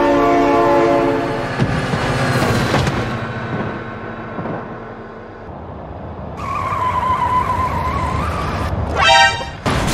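A train rumbles past close by at a crossing, with a horn-like tonal blare near the start and again at the end, heard from inside a moving vehicle carrying animals.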